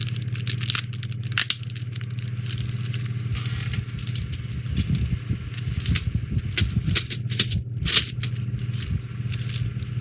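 Crinkly plastic rustling and tearing as a small bag of Revell 1:32 Spitfire Mk. II plastic model kit parts is opened, steady close crackling with sharper bursts over a constant low hum.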